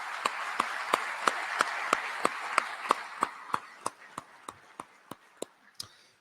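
A round of applause from the audience at a city's State of the City address, with regularly spaced claps at a steady rhythm that slowly fade, over a soft crowd wash.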